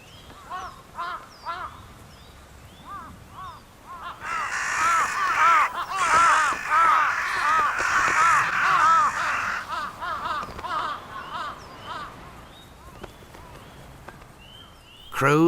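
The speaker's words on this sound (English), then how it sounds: "Jungle crows are usually first to a victim of the cold, but their noisy squabbling is a dead giveaway" Jungle crows in wintry Hokkaido caw loudly and repeatedly over a carcass, many birds calling over one another in a noisy squabble that swells in the middle and then thins out.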